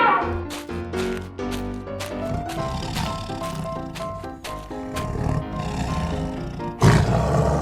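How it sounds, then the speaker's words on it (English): A tiger roars repeatedly in a wild-animal setting, several loud, deep roars in quick succession over layered music and sound effects, ending with one louder final burst. "You are a cruel tiger."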